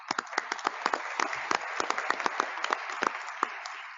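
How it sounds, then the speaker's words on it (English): A modest audience applauds the speakers at the end of a conference discussion session, the claps sparse, distinct and fairly soft, scattered irregularly across several seconds. "So a round of applause."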